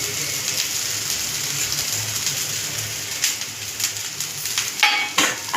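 Cooked rice with turmeric sizzles steadily as it is stir-fried in a pan for a raw mango rice dish, with a constant loud crackle and a few scraping stirs and clinks toward the end.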